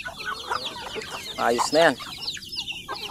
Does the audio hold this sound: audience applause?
no